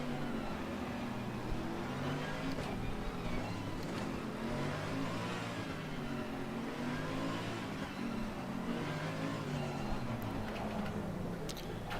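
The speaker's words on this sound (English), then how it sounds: "All the cars are so loud." Several race car engines from the sim racing game Assetto Corsa Competizione rumble together at a race start, a loud continuous drone of revving motors with no talk over it.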